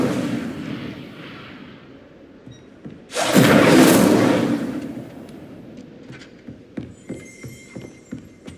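An Incendio fire spell bursts in Hogwarts Legacy, a loud roaring whoosh lasting about two seconds that rises suddenly out of the game's low ambient background and then fades into scattered clicks and taps.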